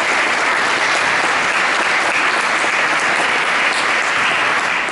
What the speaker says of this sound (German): einen herzlichen Applaus nochmal für Sie.